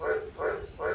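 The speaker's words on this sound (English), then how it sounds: "Mr. Frog is croaking away there up in the drain pipe." A frog croaks from inside a drain pipe in wet weather, three hollow, resonant croaks in an even rhythm, close and clear with no talk over them.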